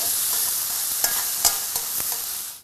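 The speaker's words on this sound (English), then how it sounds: "I'm going to add tofu, about 4 ounces, some sliced green onion, and some trimmed bean sprouts, and I'll stir fry them a little bit" Tofu, sliced green onion and trimmed bean sprouts stir-fried for pad thai make a loud, continuous sizzle broken by several sharp scrapes and clatters of tossing, with no voices.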